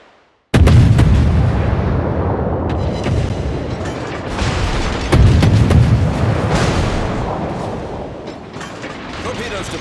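A destroyer in a naval combat video game fires its guns, loud booming salvos over a constant heavy rumble of battle, with a sharp blast at the start and another midway.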